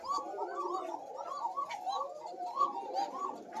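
Several pigeons coo steadily at a pigeon farm, a soft overlapping chorus of low burbling calls that continues without a break and sounds moderately close.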